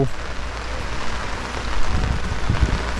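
Steady rain falls during a strong storm over a rural village, a dense, even wash of noise with some low rumble swelling slightly near the end.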